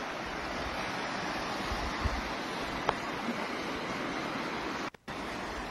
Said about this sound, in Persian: اینم رودخانه.